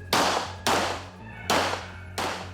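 Live-ammunition shots at a survivalist assault training session, four sharp reports at uneven intervals, each followed by a short decaying echo, close and loud with no talk.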